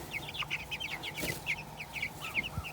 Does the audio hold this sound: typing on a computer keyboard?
no